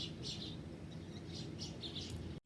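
Birds chirp and tweet in scattered short bursts on a morning, moderately distant over a steady low background hum, with no talking.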